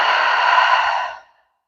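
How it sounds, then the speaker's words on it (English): A single long exhale through the mouth during yoga breathing, a steady breathy rush that holds for about a second before trailing off into silence, close and clear with no talk. "Exhale through the mouth."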